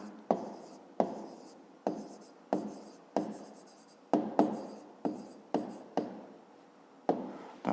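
A pen writing a math answer on paper, about a dozen short scratchy strokes in an uneven rhythm, close and quiet with no voices.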